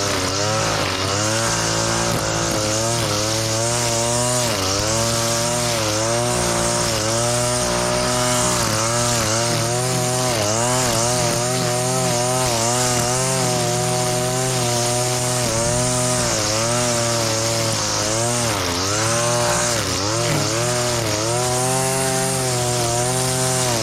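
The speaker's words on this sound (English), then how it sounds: "This is why I came back here with the trimmer." A string trimmer cuts through thick overgrowth close by, its engine loud and constant with a buzzing, wavering pitch that rises and dips as the line bites into the growth, with no voices.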